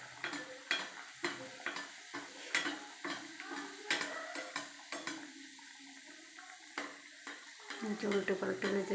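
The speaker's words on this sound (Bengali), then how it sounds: "এই যে আমি আরেকটা বানিয়ে নিলাম, এটাও দিয়ে দিচ্ছি তেলের মধ্যে।" Mughlai paratha fries in hot oil with a soft, steady sizzle, broken by frequent spatula scrapes and pan clatter, and rising to a louder crackle near the end.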